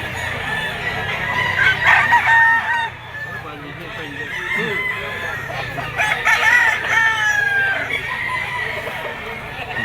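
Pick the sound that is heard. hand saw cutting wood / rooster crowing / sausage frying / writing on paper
rooster crowing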